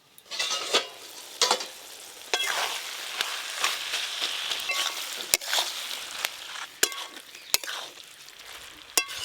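Banana flower curry frying and being stirred in a pan after water is added: continuous sizzling with a run of sharp utensil clicks and scrapes against the pan, close and fairly loud, with no talk.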